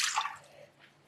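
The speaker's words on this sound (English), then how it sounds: "So I just put the water in the gray bowl." Cold water poured from a cup into a gray mixing bowl for pizza dough, a brief splashing trickle that fades quickly into a faint drip, close and quiet.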